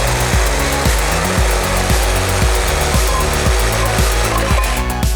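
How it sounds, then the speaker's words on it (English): An impact driver hammers on Torx rotor bolts of a Mercedes S55 AMG, loud and close, in rapid repeated bursts of rattling impacts with short breaks between them. "It takes shock to get it to release, so you gotta use an impact driver."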